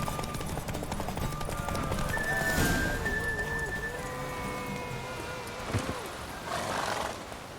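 Horse hooves galloping in The Witcher 3 during a horse race, a steady clopping rhythm with an occasional neigh, heard under continuous game music.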